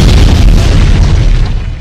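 A grenade blast rumbles as one loud, deep, sustained boom that fills the short clip and fades slightly at the end, with no voices.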